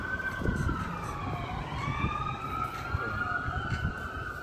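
An ambulance siren wails in rising and falling sweeps over low traffic rumble in Santa Maria. It is clear and fairly close, lasting the whole stretch.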